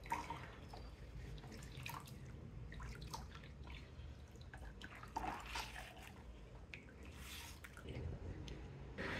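Cold water poured onto curdled, strained milk in a home kitchen, giving a steady run of splashing and dripping liquid with scattered sharper drips, fairly close and continuous throughout.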